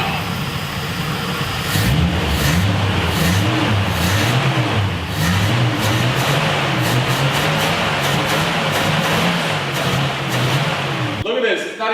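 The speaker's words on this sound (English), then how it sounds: "Listen how good this thing is running now." A 1970 Dodge Challenger's engine runs steadily at idle throughout, a loud, close, rumbling drone with a slightly uneven pulse, cutting off abruptly near the end.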